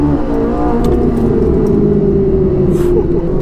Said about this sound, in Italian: siamo solo su una Ferrari